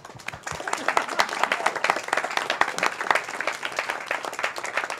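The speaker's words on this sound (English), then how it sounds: "thank you everyone, and applause." Applause from an audience at a talk event, dense, lively clapping that holds steady at moderate loudness throughout, with no talk over it.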